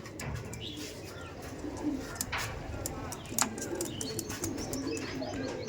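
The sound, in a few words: Andhra pigeons cooing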